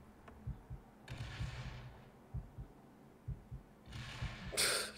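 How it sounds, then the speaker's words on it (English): Low, soft thumping video game heartbeat sound effect in Spaceport Sigma pulses in pairs, repeating quietly with brief hissy swells and a burst of noise near the end. "Did you hear that heartbeat?"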